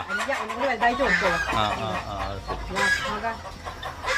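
Several chickens cluck and squawk close by in a busy, overlapping chorus, with a rooster-like crow breaking through partway.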